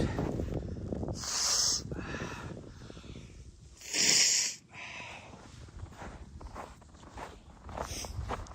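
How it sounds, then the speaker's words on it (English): A trail runner blows their nose forcefully outdoors, two sharp bursts of breath a few seconds apart, over a steady background of running footsteps and breathing. "Trying to blow my nose out."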